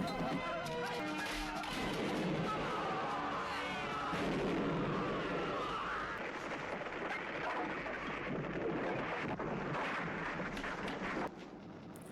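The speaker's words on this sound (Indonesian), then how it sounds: "Ching Fong Tin melihat peluang kabur dengan merampas granat dari tentara Rusia" A grenade blast in a Hong Kong action film scene with Russian soldiers, heard as a dense, booming explosion with crashing debris and rumbling that stays loud throughout amid chaotic film sound.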